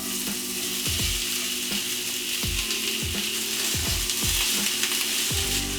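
Onions frying in oil in a cast iron pan, a steady close sizzle running throughout with occasional scraping stir sounds.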